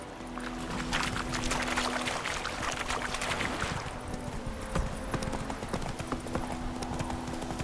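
Roach the horse's hooves clip-clop steadily in The Witcher 3: Wild Hunt, a close, continuous trotting rhythm over a soft ambient background.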